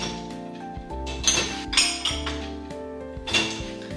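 Drinking glasses clink against one another while being unpacked from a protective blanket during a move, with several bright, ringing knocks close by amid quiet rattling.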